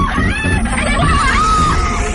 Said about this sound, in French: Une femme crie.